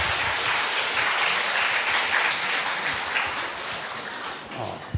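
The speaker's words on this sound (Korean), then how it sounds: "네, 박수 쳐주세요." A church congregation applauding during a Sunday afternoon service, dense sustained clapping from many hands that fades slightly toward the end.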